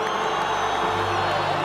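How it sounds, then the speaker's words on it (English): An arena crowd at a boxing match cheering and whooping in a dense, sustained roar, with applause folded into the steady wash of noise and a low hum beneath. "a round of applause for these two warriors in the ring"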